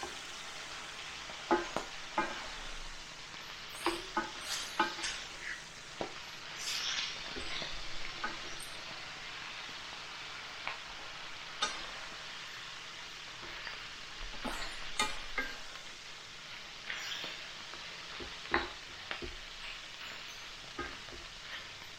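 Pizza-in-a-bowl ingredients with Italian seasoning sizzle in a pan, a soft steady frying hiss broken by occasional sharp pops, spatters and scraping stirs, close by with no talking.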